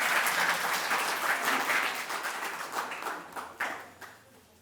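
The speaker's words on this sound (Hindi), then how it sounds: "आपकी तालियों के बीच जोरदार तालियां" University audience applauding to welcome the vice-chancellor at a National Education Day celebration, a brisk wash of clapping from a large crowd at moderate distance that gradually thins and fades toward the end.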